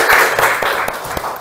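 Brief classroom applause for a student, a short patter of hand claps close by with no talking over it.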